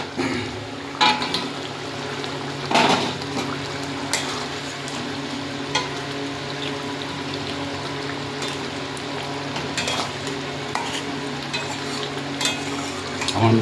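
Katla fish sizzles and fries steadily in a pan, a continuous close crackling hiss with occasional louder spits and stirring clatter, no speech.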